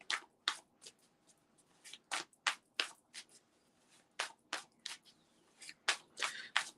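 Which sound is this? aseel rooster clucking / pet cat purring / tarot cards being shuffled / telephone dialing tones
tarot cards being shuffled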